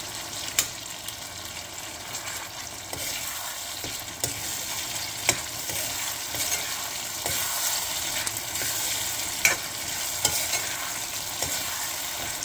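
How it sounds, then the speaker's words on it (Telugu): Cooked cherry tomato curry stirred in a pan, a continuous soft bubbling sizzle broken by occasional sharper clinks and scrapes of the spoon against the pan, close and steady. "ఒకసారి కలుపుకుందాం."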